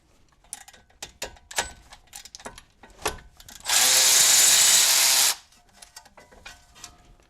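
An electric tool spins a caliper pin bolt out of a BMW E90 brake caliper in one loud, steady whir of about a second and a half, set between scattered metallic clicks and clanks from the brake work.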